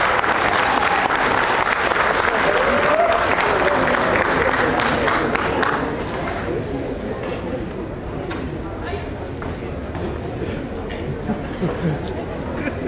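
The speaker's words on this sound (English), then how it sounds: "Let's give him a warm, warm round of applause" Audience applause welcoming a speaker to the front at a ceremony: dense, loud clapping from a crowd that gradually thins and softens after the first few seconds, with scattered claps and murmuring voices lingering.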